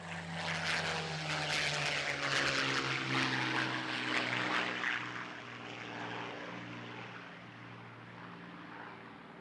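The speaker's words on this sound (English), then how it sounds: "we have that wonderful sound of a Merlin engine." Merlin engine of a WWII Spitfire taking off, a loud, rich propeller drone that swells in the first half and then eases slightly as the aircraft pulls away, with no talk over it.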